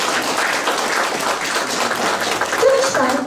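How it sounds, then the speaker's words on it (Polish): Audience applause at a gathering of folk storytellers, poets and singers, a steady dense clapping wash with a voice rising briefly near the end. "Brawa!"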